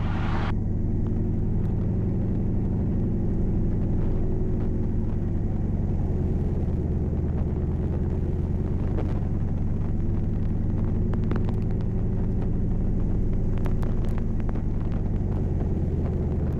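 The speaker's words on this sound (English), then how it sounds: "First cycle the prop 3 times. Watch the RPM come down about 400." Aircraft piston engine held at about 1500 RPM during a run-up, the propeller cycled three times so the RPM sags and recovers. A steady, loud, close drone runs throughout with slow swells and dips in pitch, and no voices.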